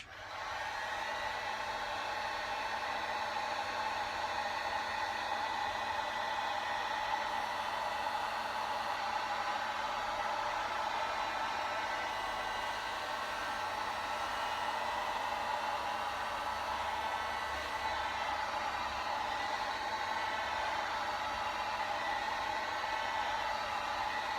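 A heat gun warms material for moulded muscle arms, giving a loud, steady blowing hiss that runs unbroken from start to finish with no talking.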